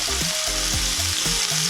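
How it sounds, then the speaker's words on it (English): Smash burger patties sizzling loudly on a hot grill, a continuous bright hiss of fat and meat with no talking, while a low melodic music bed runs underneath. "Flatten it out, second patty on the grill"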